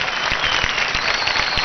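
Loud, steady applause from a live audience at a Marathi music show, dense clapping with a few sharper claps standing out, continuous throughout with no voices.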